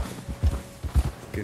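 Horse hooves clip-clop in Red Dead Redemption 2, with a few heavy, evenly spaced thuds at a walking pace, close and moderately loud over a low game background.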